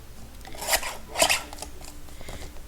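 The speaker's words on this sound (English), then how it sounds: "I'm going to go ahead and just cut off that little bit that's welded together on one of these" Scissors snip through a plastic sheet protector, cutting off a welded strip: two crisp, close cuts in quick succession, then a fainter third snip, with no talking.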